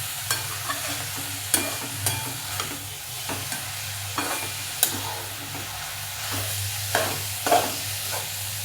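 Mixed leafy greens sauté in a hot pan with a low steady sizzle, while a spoon stirs and scrapes through them in irregular knocks and clatters every second or so, close up and with no voices.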